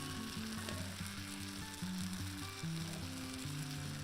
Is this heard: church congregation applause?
no